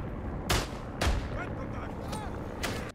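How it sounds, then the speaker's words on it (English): Distant machine gun and rifle fire in the World War I shooter Isonzo, several separate faint cracks spaced about half a second apart, with people talking over the battlefield noise. "Where is that machine gun?"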